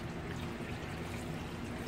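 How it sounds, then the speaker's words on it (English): A sauce mixture is poured over meatballs in a pan, making a soft, continuous liquid pouring and trickling sound that stays quiet and steady throughout with no talking. "And pour this mixture over your meatballs."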